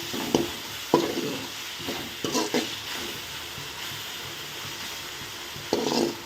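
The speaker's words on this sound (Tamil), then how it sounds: "இப்போ இந்த தக்காளி பழம் வேகிறதுக்காக வந்து சால்ட்டு போடுவோம் கொஞ்சம் போதும் தக்காளி பழம் நல்லா வதங்குறதுக்காக தான்" Tomatoes with salt sauté in a pan for a curry, with a soft background sizzle punctuated by several distinct scraping strokes of a spoon against the pan, close by and without talk.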